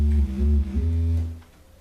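A bass line programmed in FL Studio plays a few deep, sustained notes with a slight pitch shift, heard on its own with nothing else playing.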